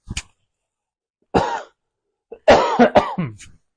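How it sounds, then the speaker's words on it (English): Several separate coughs, close and fairly loud: a short one, then a pause, then a burst of two or three quick harsh coughs. "I'm going to cough. I'm going to cover the mic."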